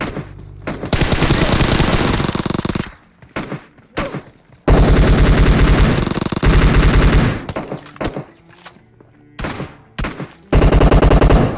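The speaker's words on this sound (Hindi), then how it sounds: "लेकिन बहुत ही खतरनाक फायर हुआ" Loud automatic gunfire from an online battle royale game comes in rapid bursts and long sustained volleys, broken by brief pauses, close and dominant with no speech.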